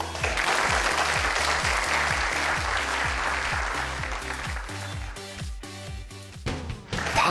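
Audience applause at a youth startup talk, dense clapping over a rhythmic music beat, tapering off toward the end as the music continues alone.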